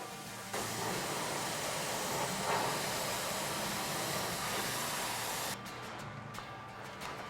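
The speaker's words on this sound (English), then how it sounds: "Dan followed this with a thorough exterior rinse down" A steady water spray rinses down the exterior of a travel trailer, a broad even hiss running for about five seconds before cutting back to a quieter wash.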